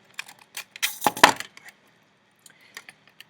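Wire for a dragon sculpture is snipped and handled, with a quick cluster of sharp metallic clicks and rustles close by, followed by a few faint taps and near silence.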